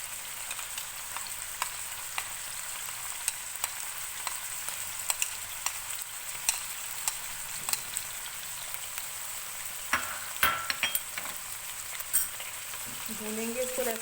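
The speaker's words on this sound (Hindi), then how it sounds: "चिकन को मैंने 2-3 मिनट ऑयल में फ्राई किया है मीडियम फ्लेम पे।" Chicken fries in oil with garlic-ginger paste over the stove, a continuous close sizzle with scattered spatter pops and occasional utensil clicks, mostly uninterrupted by talk.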